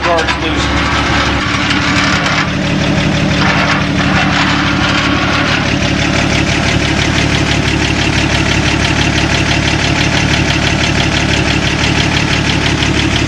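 An old car engine, either a '48 Chevy or a '38 Buick, runs close by at a loud, steady, slightly knocking idle. The idle holds constant throughout while a voice talks over it.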